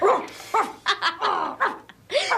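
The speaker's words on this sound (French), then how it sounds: "Le chien de Basketville" Dog barking in a short burst of several loud, close barks with yelping, whimpering tones, uneven rhythm and brief gaps, no talking.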